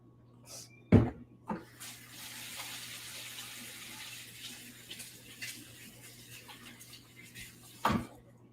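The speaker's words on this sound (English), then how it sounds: "Wash my hands." Hands washed under a running kitchen tap, a steady soft hiss of flowing water lasting several seconds, framed by a couple of sharp knocks from dishes or a cupboard, fairly near and quiet.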